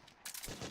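Gunfire in Metal Gear Solid 4: Guns of the Patriots during a firefight, a short burst of close, loud shots that sets in abruptly after a quieter start and continues as a dense, rapid volley.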